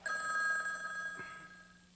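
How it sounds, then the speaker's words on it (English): A telephone bell rings steadily with a bright sustained tone that fades into a quieter tail, heard alone without talk. "I was having lunch on my houseboat when the telephone rang"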